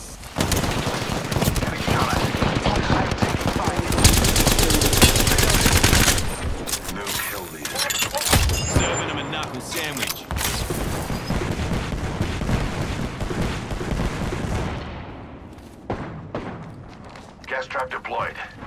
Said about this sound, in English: Getting shot at. I'm taking fire.